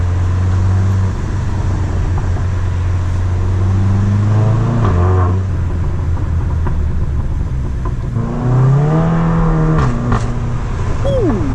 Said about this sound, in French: je sais pas si vous entendez, il y a des petits retours de gaz aussi